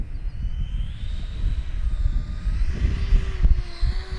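An E-flite F-4 Phantom II 80mm electric ducted-fan RC jet flies slowly with full flaps over a grass field, its steady whining drone fairly near and rising slightly in pitch, with wind rumble underneath and no talk.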